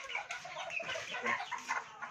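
Several chicks and chickens, including Serama and giant breeds, clucking and chirping close by in a brooder cage, overlapping in irregular bursts with no talking.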